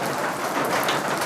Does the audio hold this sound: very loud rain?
yes